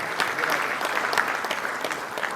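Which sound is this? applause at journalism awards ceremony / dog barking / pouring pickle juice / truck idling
applause at journalism awards ceremony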